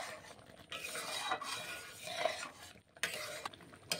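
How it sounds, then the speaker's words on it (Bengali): Flattened rice payesh is stirred in a pot, a soft scraping and shuffling that rises and falls with brief pauses, fairly quiet and close, with nobody speaking. "দিয়ে ভালো করে একটু নাড়াচাড়া করে নেব।"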